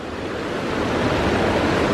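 Steady, loud rush of a roaring river in a mountain setting, a dense, continuous wash of flowing water that fills the space and swells slightly, with no voices.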